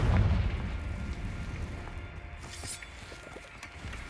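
A fiery Confringo spell blasts in the video game Hogwarts Legacy, opening with a loud, deep boom that fades into a rumbling tail over a few seconds.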